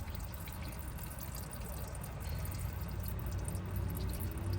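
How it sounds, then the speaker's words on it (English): Oil or antifreeze draining from a 2008 Mazda 3 engine, a faint continuous trickling wash of liquid, steady and low, heard close with no talking. "I just let it drip in a controlled, nice little way so it doesn't make a mess, because I always make a mess with oil or antifreeze"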